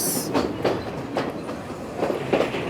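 The Ella Odyssey train runs through Sri Lanka, its wheels beating a loud, steady clickety-clack from inside the carriage, with rhythmic joint clicks repeating every half second or so over a constant rumble.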